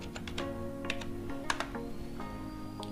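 Quick, irregular key clicks on a computer keyboard as a short word is typed, close and crisp in a quiet room.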